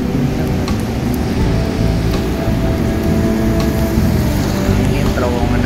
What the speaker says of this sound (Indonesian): Lagi hujan ya